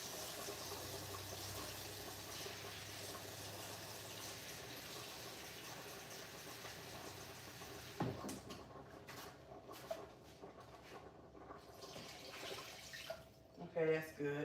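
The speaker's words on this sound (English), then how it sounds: "I'm gonna add a little bit more water to it." Tap water pours in a steady, faint stream into a cooking pot of potatoes for several seconds, then stops, followed by quieter clinks and handling noises.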